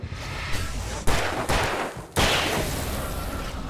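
Three sharp, loud pistol shots in Alan Wake Remastered, each a sudden blast followed by a short decaying tail, fired in close quarters with brief gaps between them.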